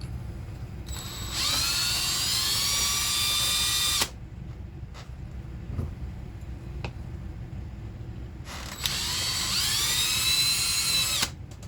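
A power screwdriver backs screws out of an Axial SCX10 II Deadbolt RC crawler: two whirring bursts of a few seconds each, close and fairly loud, with quiet handling clicks between them and no talking.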